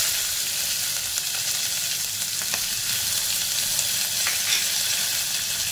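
Curry leaves and chillies sizzle loudly in hot ghee for a fasting-day pumpkin dish, a dense, even crackling hiss that fills the whole stretch with faint pops and no voice over it.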